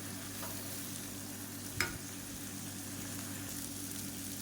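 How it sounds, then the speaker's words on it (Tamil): White chickpea masala sautéing in a pan until the water dries off, a steady soft sizzle with an occasional stir or scrape against the pan, no voices. "வதக்கி விட்டுக்கலாம்"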